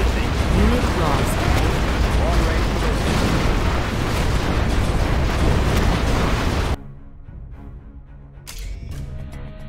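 A particle cannon beam firing in Command & Conquer Generals Zero Hour, a loud, dense rumbling roar that churns for about seven seconds before cutting off abruptly, leaving quieter game effects behind.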